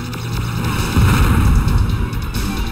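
A rocket detonates in the game Descent 1 (D1X-Rebirth), giving a loud, sustained booming rumble with heavy low-end energy that swells around the middle of the short stretch.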